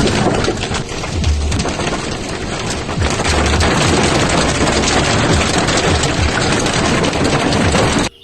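Dense, steady pelting of hail, loud and continuous throughout, with low rumbling thuds underneath like a heavy storm.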